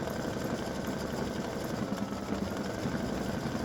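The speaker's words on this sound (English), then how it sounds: "as you can see, it's stitching just fine" A home embroidery machine runs steadily through free-standing lace, sewing raised lettering over extra underlay with a continuous, even mechanical hum and rapid needle chatter close by.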